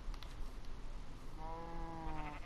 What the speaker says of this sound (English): Oh, sheep, you're so annoying.